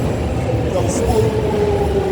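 A London Underground Jubilee line train rumbles at a station, a loud steady low roar with a faint high whine running through it, while speech is faintly present.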